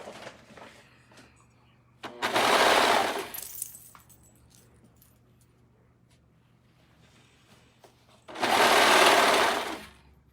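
Sewing machine redoing a skirt seam in two short loud runs of whirring, rattling stitching, each around a second or two, separated by quiet fabric handling in between.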